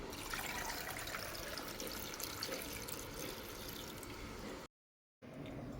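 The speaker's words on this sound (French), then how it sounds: "je vais rajouter de l'eau et je vais laisser les légumes cuire" Water pours steadily into a pot of cooking vegetables for fresh fish akpi sauce, a soft continuous splashing rush that briefly cuts out before resuming.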